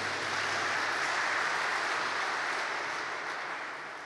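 A congregation applauds at a church gathering as a woman named Tami steps up to give her testimony; steady, dense clapping fills the room for about four seconds and tapers slightly at the end.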